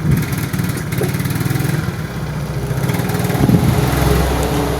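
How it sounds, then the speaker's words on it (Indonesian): Yamaha Mio J scooter engine at low RPM, revving unevenly with a rough, sputtering, hesitant note under the throttle, loud and close with pulsing throbs throughout. "Jadi si motor ini berbed di RPM bawah ini. Ngempos ya si motornya."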